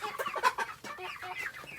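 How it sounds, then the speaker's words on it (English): Backyard chickens and a rooster cluck in a quick, close series of short calls, with no voices over them. "I definitely have a rooster among them."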